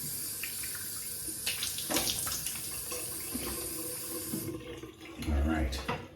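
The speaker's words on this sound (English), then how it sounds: "I'm gonna rinse off and then relather" Water runs from a sink tap while a man rinses his face and razor mid-shave on a trip in Cambria, California, a steady close splashing hiss that swells louder near the end.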